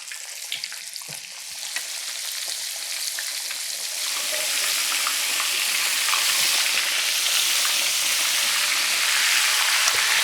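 Battered cube steak frying in hot oil for country fried steak, a dense crackling sizzle that starts moderate and swells louder and fuller as the oil heats, continuous and close.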